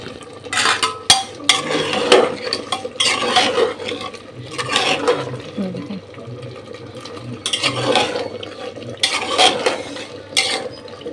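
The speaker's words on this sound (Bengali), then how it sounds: "এই যে আমি ভুড়ি রান্না করতেছি, এই দেখেন কষানো হচ্ছে" Tripe (bhuri) is sautéed and stirred in a pan with oil, giving repeated rhythmic scraping and clattering strokes in bursts over a faint frying background, close and fairly loud, with no talking.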